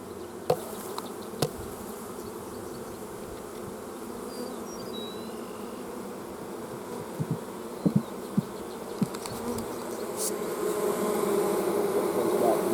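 Honey bees drone in a continuous, dense buzz around an open beehive, steady and fairly close throughout, with a few faint clicks and taps of hive handling mixed in.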